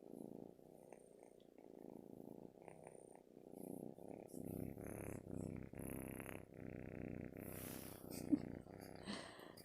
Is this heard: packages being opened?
no